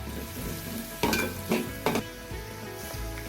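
Kulith flour cooking with onion and garlic in a pan gives a steady sizzle and fry, broken by three sharp scraping strokes of stirring, close and alone without talk.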